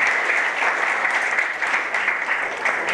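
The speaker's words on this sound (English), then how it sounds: "Give a round of applause." An audience at a Lean Startup meetup in Melbourne applauds after a startup presentation, with close, loud, steady clapping that keeps a constant density from start to finish.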